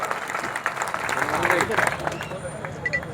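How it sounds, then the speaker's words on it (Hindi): An audience at a Digital India speech by the country's IT minister breaks into applause, a dense patter of claps building and then thinning, with a raised voice carrying over it. "देश का आईटी मंत्री आपके लिए ताली बजाता है"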